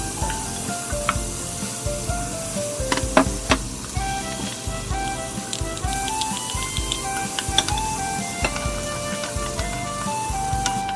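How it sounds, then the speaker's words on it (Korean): Minced onion and garlic sauté in a pan until translucent, giving a loud, steady sizzle throughout. A busy patter of crackles and pops is scattered over it, with no voices. "양파 반 개 다져서 마늘과 함께 투명해질 때까지 볶아줍니다."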